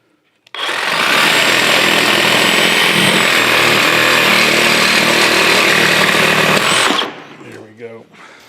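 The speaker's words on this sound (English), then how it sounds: "Let's see if I can get in here with this Sawzall." A Sawzall reciprocating saw cuts into a stubborn Chattanooga No. 14 cane mill, a loud, steady, harsh buzzing that runs for about six seconds and then stops abruptly, leaving faint clatter afterward.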